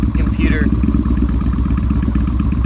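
A Yamaha Bolt motorcycle with a new Dean Speed exhaust runs close by, its low, lumpy exhaust beat pulsing steadily and loudly, with no clear rise in revs.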